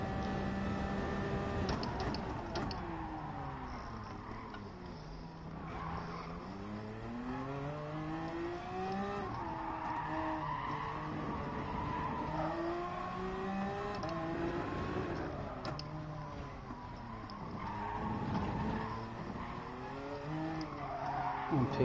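Cars in the Gran Turismo racing game rev and screech, with continuous engine drone, shifting pitch and repeated tire skids across the stretch, and a faint voice now and then underneath.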